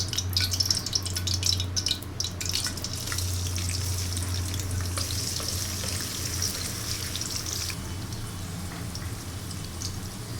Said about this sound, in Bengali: এখন যে বাদামগুলো আমি ছিলে রেখেছিলাম সেই বাদামগুলো হালকা করে একটু ঘিয়ে ভেজে তুলে নিব